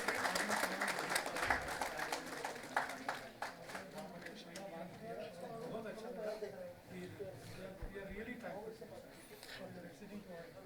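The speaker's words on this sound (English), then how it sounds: "I request the audience to give a big round of applause" An audience at a national convention of insolvency professionals and registered valuers applauds during a memento presentation, a soft, crowded patter strongest at first that thins over ten seconds while voices murmur underneath.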